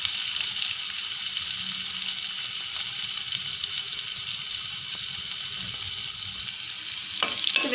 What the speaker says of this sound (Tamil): நம்ம நல்லா வெங்காயத்தை கொஞ்சம் எண்ணெயில் வதக்கிடலாம்.